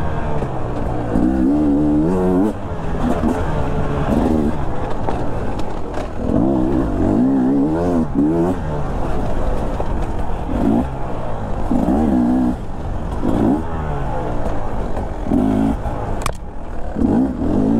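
A 2022 Beta 250 RR two-stroke enduro motorcycle being ridden, its engine repeatedly revving up and dropping off in wavering surges, loud and close throughout, with no talk.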